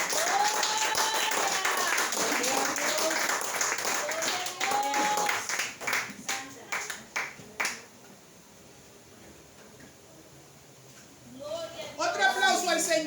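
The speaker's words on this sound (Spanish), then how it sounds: "Brinda un aplauso para Cristo." Congregation applause for Christ during a church service: a few seconds of scattered clapping bursts between stretches of a preacher's amplified speech, followed by a quiet pause before talking resumes.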